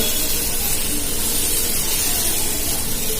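Oat batter fries in a hot pan, giving off a loud, continuous sizzling hiss that stays steady and close throughout.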